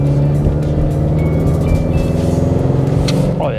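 A 2025 Ford Mustang EcoBoost fastback with a turbocharged 2.3-liter four-cylinder pulls hard under acceleration, a steady loud engine drone heard from inside the car with no talking.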